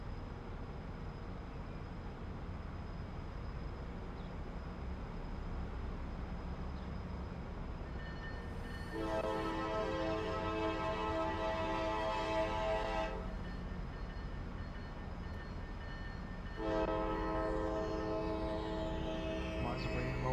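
Train horn in the rail simulation game Transport Fever, two long sustained blasts several seconds apart over a steady rumbling rail and engine bed.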